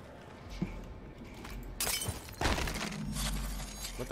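Glass shatters in the video game Prey, with a few sharp breaking crashes and tinkling debris over low background game ambience.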